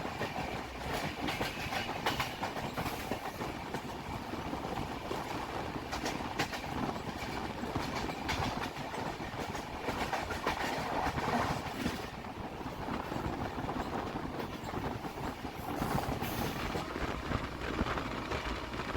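Barbil Jan Shatabdi Express train running through stations on its Howrah–Tatanagar route, a steady rumble with clickety-clack of wheels on rail joints, continuous and fairly loud throughout with no voices.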